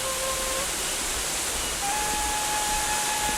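A waterfall near Baturraden in Banyumas, Indonesia, roars as a steady broadband rush of falling water, with faint tonal whines over it.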